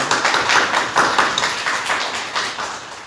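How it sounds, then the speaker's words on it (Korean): A Sunday morning church congregation in Korea claps together in dense, rhythmic bursts of applause that swell and ease over a few seconds, with no talking. "우리 하나님께 감사와 찬송과 영광의 박수를 올립니다."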